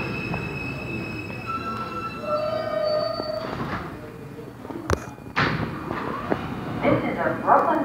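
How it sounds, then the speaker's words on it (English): A Brooklyn-bound R160A J local subway train at Sutphin Boulevard-Archer Avenue-JFK Airport station rumbles and rattles with long metallic wheel squeals, then sharp clanks and a hiss as it settles, fairly close and loud. "This is a Brooklyn-bound J local train."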